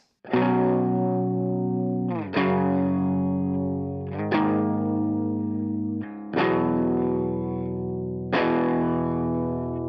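Heavily distorted electric guitar strikes five sustained sus2 chords, each ringing out for about two seconds before the next.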